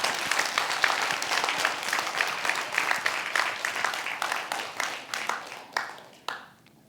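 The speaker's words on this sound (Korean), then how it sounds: "박수 좀 쳐요, 이럴 때." An audience at a Buddhist lecture breaks into lively applause with distinct individual claps, swelling early and then thinning out and fading toward scattered final claps.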